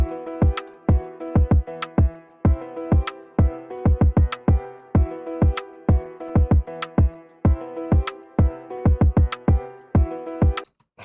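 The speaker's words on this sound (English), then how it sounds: "just a triangle percussion that goes out throughout the beat" A looping Flint/Detroit-style electronic beat with punchy kicks and snares, crisp hi-hats, and a bright repeated triangle ting riding through the pattern.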